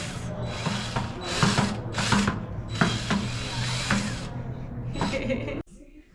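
A hopper spray gun sprays drywall texture mix in repeated bursts of hissing air, each burst a second or so long with short pauses between. The trigger pressure is eased to slow the flow, and a voice talks over the spraying.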